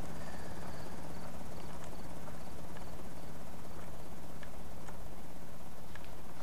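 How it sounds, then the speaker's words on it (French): A helicopter in the video game Project Zomboid flies away, heard as a steady mechanical drone with a faint chopping rhythm. Sparse small clicks sit over it, and there is no talking. "vous voyez, l'hélicoptère s'éloigne et j'ai pas de zombies qui sont venus."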